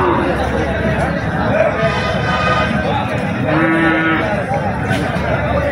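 Young Sahiwal bull calves call with a short, tonal bleat-like cry at the traditional Chandimura cattle market, partly buried beneath constant crowd chatter and people talking nearby.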